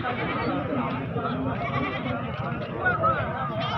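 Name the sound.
breeder goat bleating at livestock market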